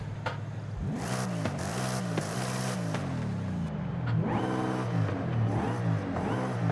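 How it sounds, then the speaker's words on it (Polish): Ford Mustang GT 2024 engine in Forza Horizon 5, revving steadily with rising and falling harmonic sweeps and a high supercharger whine layered on top, loud and continuous with no talk. "Kompresorek słychać."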